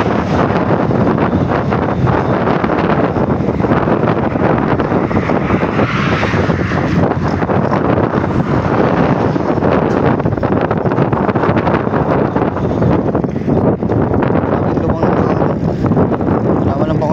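Strong wind buffets the microphone on a bike ride near a beach in a loud, constant rumbling roar, with a voice speaking faintly underneath.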